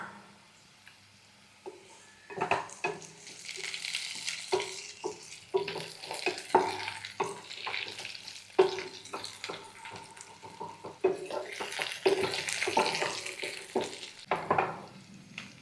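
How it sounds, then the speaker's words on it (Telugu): Red chillies and cumin seeds fry in hot oil with a continuous sizzle, punctuated by scraping and stirring knocks of a spoon in the pan, close by and with no talking. "ఇప్పుడు ఇందులోకి మనం ఫస్ట్ చూపించిన విధంగా టూ స్పూన్స్ ఆఫ్ జీలకర్ర అయితే యాడ్ చేసేస్తున్నాను"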